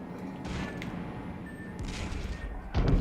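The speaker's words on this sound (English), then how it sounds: "Oh no! Torpedoes hit me." Torpedoes striking a warship in World of Warships, a series of muffled booms and thuds over battle ambience, ending in a heavier, louder impact.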